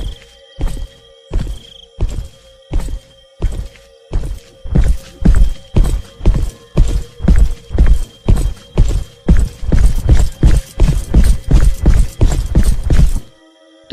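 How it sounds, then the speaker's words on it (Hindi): Footsteps in a horror story fall as regular heavy thuds, close and loud. They start spaced apart, then quicken into a rapid, steady pace before stopping abruptly. "अब सुषमा को पैरों की आहट ज्यादा आने लगी थी"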